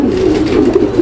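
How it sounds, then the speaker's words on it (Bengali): A female gola pigeon coos loudly and continuously at close range, a low throaty rolling call with no voices over it. "এটা এটা হচ্ছে গররা কবুতর, একটা মাদি না ভাই?"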